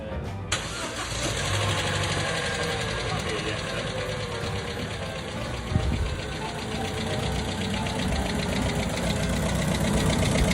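A motorcycle engine runs steadily after an engine change, loud and close, with a rattling, noisy chain clattering over the mechanical drone throughout.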